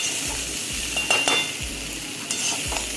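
Pakoras for kadhi pakora fry in hot oil with a continuous sizzle, while a utensil stirs and scrapes against the pan in several distinct, evenly spaced strokes; close by, with no talking.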